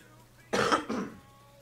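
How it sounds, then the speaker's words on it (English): A single short cough, or a rough throat-clearing, breaks out in two quick bursts from a nearby person, then fades back into quiet. "I'm sorry about that cough"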